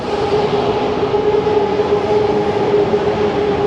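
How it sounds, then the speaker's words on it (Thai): An electric skytrain in Bangkok runs past close by with a loud, steady rumble and a rolling rail drone that holds without a break, and no voices are heard. "รถไฟฟ้าก็วิ่งมาบ่อย"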